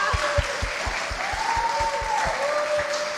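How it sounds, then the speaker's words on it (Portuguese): A church youth-service congregation applauds Juliana's mother with steady, dense clapping. A whistle-like tone glides along above the applause, and low rhythmic thumps pulse beneath it at a regular beat. "Uma salva de palmas para a mãe da Juliana"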